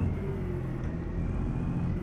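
A steady, low rumble from a Caterpillar C15 engine in a Freightliner FLC truck in American Truck Simulator, heard from inside the cab as an even drone at moderate volume with no talking.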